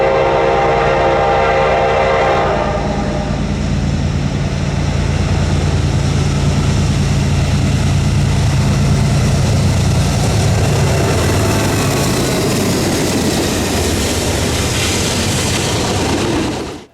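A Norfolk Southern freight, NS28X with an H3-9 locomotive trailing, rumbles past loud and close on the Chicago line at Ogden Dunes, its horn blaring at first, then a long steady roar of wheels and cars.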